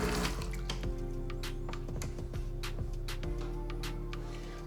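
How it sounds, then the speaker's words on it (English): Water dripping and trickling from the group head of a DeLonghi ECP3220 espresso machine during a flush, with soft irregular drips over a steady low machine hum. "As the water comes down, it may drip a little bit from the group head."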